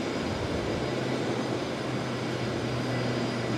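A National Jet Express aircraft on a go-around at Brisbane Airport, a distant steady engine drone holding a low hum throughout, with no voices.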